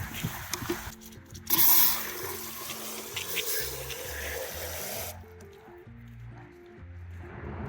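Water runs and gushes into a Mud Buster dog paw cleaner, with a loud burst of pouring near the start and then a steady trickle and slosh, accompanied by background music.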